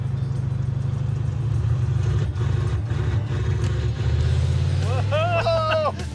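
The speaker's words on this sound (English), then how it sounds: "It pops wheelies. It does make turbo noises." A turbocharged Pontiac Trans Am accelerates hard, its engine a loud steady roar that rises in pitch near the end as rising whistles from the turbo appear, with people talking over it throughout.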